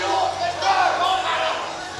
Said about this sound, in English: Big cheers for her at this moment.